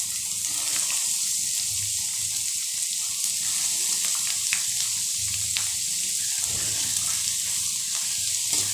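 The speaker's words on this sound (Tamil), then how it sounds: "இப்போ வெங்காயம் போட்டு அதையும் ப்ரௌன் கலருக்கு வர வதக்கி எடுத்துக்கலாம்" Sliced onions sauté in a pan for a kovakkai (ivy gourd) masala, giving a steady, even sizzle with occasional faint stirring clicks throughout, fairly close and with no talking.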